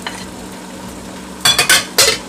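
A spoon stirs chopped tomatoes into mussels frying in a pan with garlic, quiet sizzling first, then a few loud scraping, clattering stirs in quick bursts near the end.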